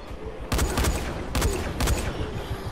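Gunfire in the video game Dying Light comes as three loud, close bursts of rapid shots, each lasting a fraction of a second, separated by brief gaps of quieter ambience.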